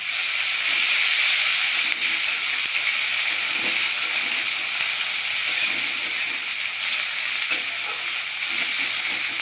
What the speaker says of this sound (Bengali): পেঁয়াজটা একটু ভেজে ভেজে নেব।